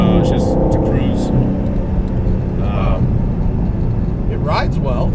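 A supercharged 2012 Ford Mustang GT engine gives a loud, steady, deep rumble that continues throughout, up close, while people talk over it.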